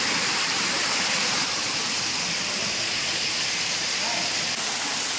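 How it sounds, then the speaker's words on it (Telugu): A waterfall at the Sadasiva Kona forest temple pours down in a loud, continuous broadband rush that stays steady and close throughout, with no pauses. "శ్రీ కామాక్షి సమేత సదాశివేశ్వర స్వామి జడల నుంచి పారుతున్న జలపాతం"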